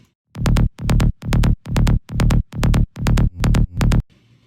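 A layered synth bass, a side trance bass with a sub bass beneath, pumps out nine loud, evenly spaced notes in a tight driving rhythm, each note cut off cleanly, with no talking.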